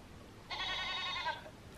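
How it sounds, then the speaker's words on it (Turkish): A single goat gives one clear, drawn-out bleat lasting about a second, close by and fairly quiet, with faint background noise around it. "Keçi."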